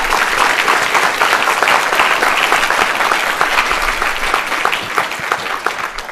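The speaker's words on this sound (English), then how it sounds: "Round of applause" Sustained applause from a conference audience at the close of a DevOpsDays Portland talk, a dense, steady wash of many hands clapping that holds for the whole stretch and tapers only slightly at the end.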